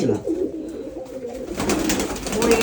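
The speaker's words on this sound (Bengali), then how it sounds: "কবুতরগুলো আসলে বন্দি ঘরে থেকে আর কি ভারী হয়ে গেছে" Green pigeons coo close by in soft, repeated low calls at a pigeon fair in Bogura, Bangladesh, over a quiet background, with a few faint knocks and rustles.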